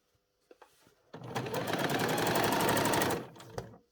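A sewing machine runs in one steady burst of close, loud stitching on blazer fabric, stopping after about two seconds, with a few soft handling clicks before and after.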